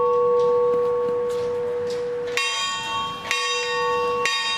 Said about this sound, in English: Join in, ring your bell if you've got one.